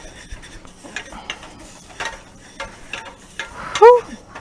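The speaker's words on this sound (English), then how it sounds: "Let me give it a stir so nothing's burning there at the bottom." A spoon stirs a pot of pizza sauce with red pepper aromatics, making irregular close-up scraping and clicking strokes against the pot's bottom, with a short vocal sound near the end.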